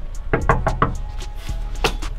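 Knuckles rap on the door of a house in a quick run of four close knocks, then a pause and a couple more firm knocks.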